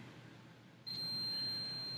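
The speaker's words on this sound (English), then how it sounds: "that beeping sound means it's good" A steady, high-pitched multimeter continuity beep switches on partway through and holds unbroken to the end, over faint background hiss.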